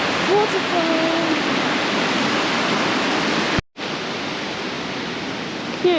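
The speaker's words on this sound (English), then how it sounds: "Waterfalls." The Triberg waterfalls rush in a loud, steady roar of falling water, broken only by one brief dropout midway, with faint bird chirps over the top.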